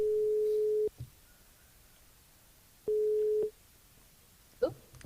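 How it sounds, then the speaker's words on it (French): Calling a mobile phone brings a ringback tone: two long, steady, pure tone bursts separated by a pause, fairly clear over a quiet line, followed by a brief faint sound near the end. "On rappelle Anaïs, on va voir si Anaïs répond Allo, quoi."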